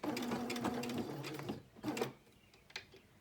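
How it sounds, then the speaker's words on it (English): A sewing machine stitches quilt binding toward the edge in a steady close whir for about a second and a half, then stops, followed by a few short bursts of stitches. "I'm going to sew to the edge until I'm about 1/4 of an inch away from the end"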